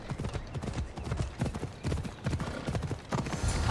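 A horse's hooves clip-clop in a steady rhythm on hard ground in the video game Assassin's Creed Odyssey, close and clear over faint ambient background.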